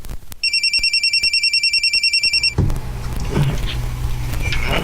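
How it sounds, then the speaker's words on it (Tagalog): A cellphone rings with a rapid, warbling electronic trill repeating steadily for about two seconds, loud and close, then stops, leaving a muffled room background with faint movement. "Cellphone ni Anton"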